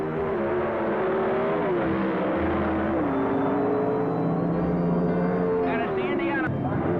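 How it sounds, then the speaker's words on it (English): 1970s Pro Stock drag cars do tire burnouts at a drag strip, a continuous loud engine roar and tire noise held for several seconds while someone talks over it. "And it's the Indiana tire burnouts, an interesting, exciting, and necessary preliminary to all drag racing."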